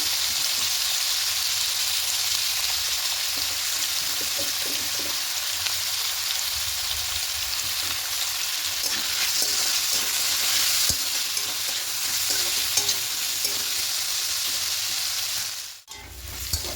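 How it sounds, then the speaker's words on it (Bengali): Potatoes fry in hot oil with salt and turmeric, giving a loud, continuous sizzle with occasional stirring scrapes, ending in a brief clatter near the close. "ঠিক যখন আলুটা এরকম ভাজা ভাজা হয়ে আসছে দেখে নেব"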